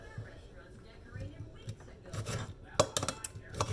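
A knife trims and slices bell peppers on a cutting board for fajitas, with soft scraping strokes and a few sharper clicks against the board, faint and close, with quiet talk in places.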